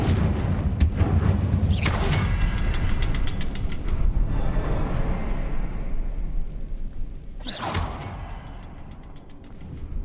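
A Confringo fire spell erupts in Hogwarts Legacy, with two sharp booming blasts several seconds apart over a rumbling, crackling background.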